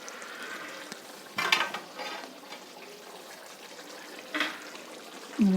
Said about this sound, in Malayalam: നമുക്കൊന്ന് ഇളക്കി നോക്കാം.